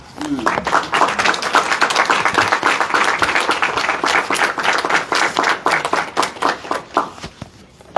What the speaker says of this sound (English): Please, a round of applause once again for our wonderful reader.